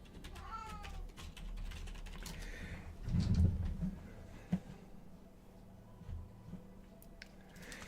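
Indoor cat meowing loudly and agitatedly, with a couple of distinct yowls near the start and a louder burst in the middle, against low background room noise and some faint clicking.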